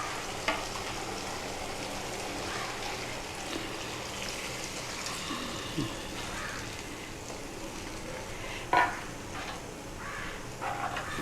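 Onions and tomatoes sauté in a pan, giving a steady, close sizzle with occasional stirring scrapes and a brief louder clatter near the end, and no talking.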